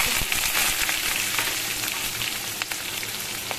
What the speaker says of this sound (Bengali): এতে আমি ফোড়ন দিলাম, 5 ফোড়ন দিলাম, আর কাঁচা লঙ্কা আর পেঁয়াজ।